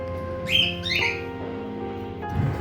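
Pet birds in an indoor aviary room give a few bright, sweeping chirps and whistles over a low background hum, the calls fairly close and spaced apart.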